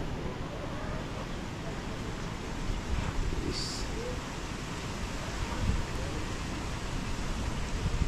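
Strong wind sweeps across a farm after a typhoon, a steady broadband roar with gusty buffeting against the microphone throughout.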